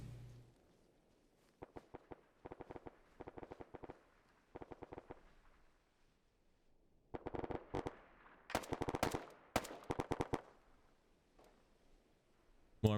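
Bursts of machine gun fire in ARMA 3 during an asymmetrical PvP event, several rapid volleys rattling out in separate clusters with brief pauses, growing denser and louder toward the end.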